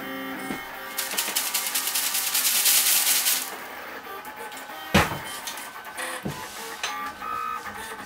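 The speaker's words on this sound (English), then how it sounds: "Looks like it's printing fine." A Lulzbot AO-101 3D printer runs upside down while printing in ABS, giving a close, steady whir and buzz of stepper motors with shifting pitches, a loud burst of rapid movement early on and a sharp clunk midway.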